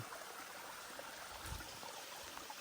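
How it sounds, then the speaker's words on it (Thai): A forest stream flows downhill near a jungle treehouse hut, giving a steady, fairly faint wash of trickling water that holds level throughout, with a brief low thump partway through. "ตรงนี้ก็จะเป็นลำธารไหลลงมานะครับ"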